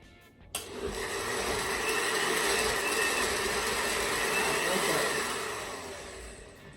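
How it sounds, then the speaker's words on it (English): A kitchen blender pulses a chunky tomato and jalapeno cantina-style salsa, a whirring motor that starts abruptly, runs for about five seconds at steady volume, then winds down. "Just on pulse, we're gonna go ahead and just add that and just pulse"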